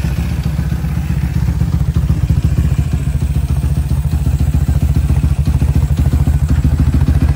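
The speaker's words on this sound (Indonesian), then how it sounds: "untuk suara mesinnya halus banget ya" A 2003 Honda GL 285cc motorcycle engine idles smoothly and loudly up close, a steady fast low putter with even rhythm and no pauses.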